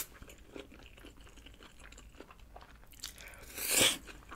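Close, soft chewing of cheese-topped oven-baked tomato spaghetti, with faint wet bites and mouth sounds, building to a louder crunchy bite near the end.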